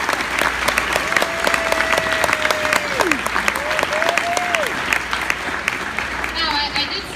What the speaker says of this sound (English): big applause for all of them.